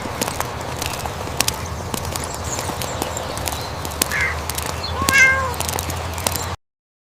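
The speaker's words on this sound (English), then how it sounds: "Meow." A cat meows briefly on a farm, a short faint call rising over steady outdoor background noise with scattered light knocks and rustles.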